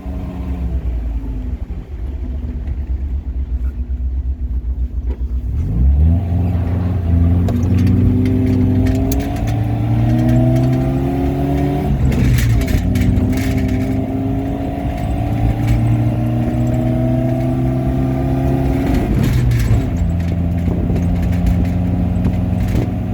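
A late-60s to early-70s MGB sports car, its engine newly replaced after a failed number 3 rod bearing, revs loudly and close while driving, climbing through the gears in repeated rising pulls with a shift between each.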